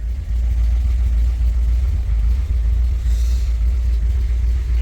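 Vehicle engine idling steadily after an oil leak repair, a loud, continuous low rumble close by with no talk over it.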